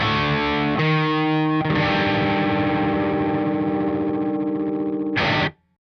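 A bass guitar plays through an EarthQuaker Devices Zoar Dynamic Audio Grinder distortion pedal: a loud, fuzzy, sustained chord changing twice, then a short bright burst before cutting to silence.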